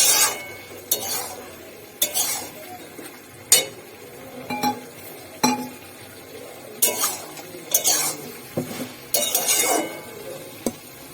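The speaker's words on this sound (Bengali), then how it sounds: "এই একই সঙ্গে আমি চিকেনগুলোকে দিয়ে দেবো, দিয়ে একটু কষিয়ে নেবো।" Chicken pieces stirred and sautéed in a pan for spicy restaurant-style chilli chicken, with repeated sharp clinks and scrapes of a spatula against the pan at an uneven rhythm, close and fairly loud.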